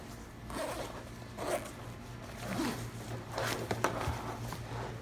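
A backpack-style assault pack's zipper being opened, several quiet ripping zip strokes in short bursts at close range, with no talking.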